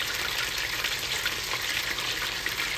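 Fresh Gulf shrimp frying in hot grease in a pan, a steady, dense, close sizzle that continues without any talk.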